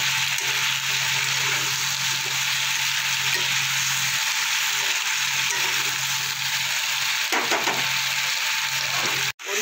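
Kohlrabi and potatoes fry in a pan with salt and turmeric, a steady close sizzle with scraping stir strokes through it, ending in a sharp clatter.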